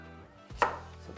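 A single knife chop through a carrot lands sharply on a cutting board, close and crisp, with no talk.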